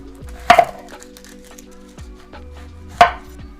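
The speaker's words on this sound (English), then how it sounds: "Now we're going to do diced jalapenos, I guess." A knife dicing jalapenos strikes a cutting board in a few sharp, sparse chops, spaced well apart and heard close with no talk.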